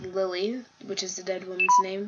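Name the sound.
phone beeping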